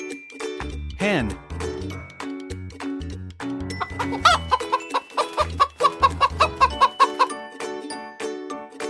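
A hen clucking in a farm-animal sound sequence, with repeated short clucks that build into a rhythmic series of calls, close and fairly loud against a musical backing.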